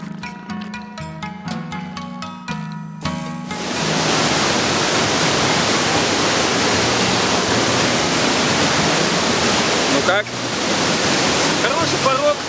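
Roaring Khone Phapheng waterfall in Laos, a dense continuous rush of water that swells in after a few seconds of music and stays loud, briefly dipping once.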